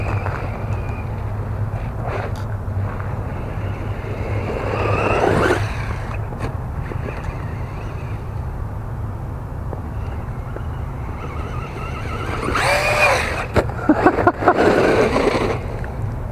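An RC truck powered by an Awanfi 3S 3000mAh lipo battery drives over slippery ground outdoors, a steady close motor whine and rumble with brief surges of wheel spin and scrabbling, no talk heard.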